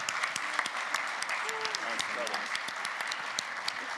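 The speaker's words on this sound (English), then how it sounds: "Let's give them an applause." Conference audience applauding at a closing event on a center stage, a continuous, moderately distant spread of clapping with brief voices and whoops rising over it.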